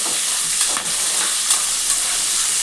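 Green chillies fry in hot oil in a pan, a continuous bright sizzle with a few soft stirring scrapes, close and steady without any talking.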